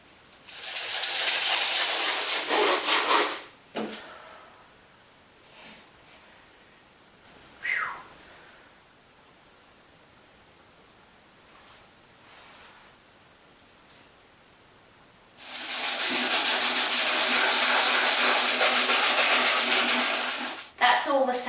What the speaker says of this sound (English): That's all the sanding done